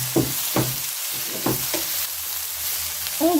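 Shrimp and Chinese cabbage stir-fried in a hot pan, a steady sizzle broken by a few scraping stirs of the spatula, close and moderately loud with no talk.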